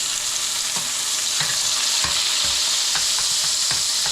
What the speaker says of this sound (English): I'm going to throw another nub and butter just to melt and cool down the pan.